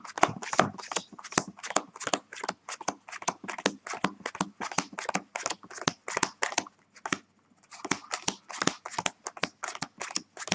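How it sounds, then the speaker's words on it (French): Playing cards counted rapidly one by one onto a pile, producing a fast, steady run of about thirty crisp slaps and flicks with a short pause midway, close and alone. "Et vous comptez 30 cartes assez vite."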